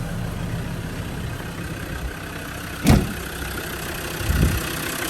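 A warm Land Rover Defender 90 TD5 diesel engine with air conditioning idles steadily at close range, a low even rumble broken by one sharp knock and a soft thump later on, with no talking.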